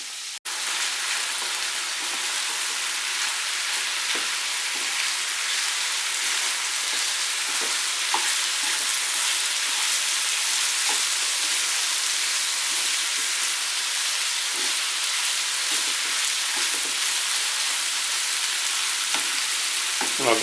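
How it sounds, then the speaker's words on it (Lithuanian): Vegetables and chicken fry together in hot oil for a tortilla dish, a loud continuous sizzle with faint scraping and clicks from steady stirring and no voices. "Maišydami kepam."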